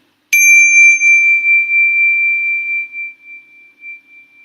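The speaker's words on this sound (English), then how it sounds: "My bell has fallen off its hinge." A mindfulness bell is struck once, ringing out with a clear, bright tone that slowly decays over several seconds into a soft shimmering hum, alone with no voices.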